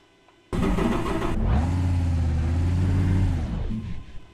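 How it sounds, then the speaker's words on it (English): A race car in the iRacing simulator on the Nürburgring fires up with a loud, steady engine drone that holds for a few seconds, then sags and dies away as the engine stalls. "And I've stalled the car."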